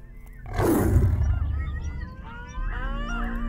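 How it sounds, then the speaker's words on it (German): A tiger in theHunter: Call of the Wild lets out a single loud, close roar that surges in and then fades into a growling tail, followed by fainter rumbling. "Also, das war ganz sicher, das war ein Tiger."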